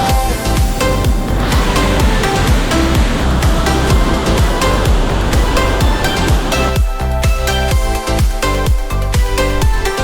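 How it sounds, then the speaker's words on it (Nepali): Rupse waterfall in Nepal's Mustang region roars with a loud, steady wash of rushing water that fills the whole stretch without a break; no voices are heard. "एकदम झर्ना चाहिँ बवाल छ बवाल"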